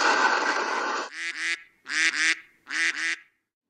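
Cartoon ducks in an animated environmental spoof give harsh honking quacks, a noisy burst followed by three paired calls in quick succession, loud and close with short gaps between them.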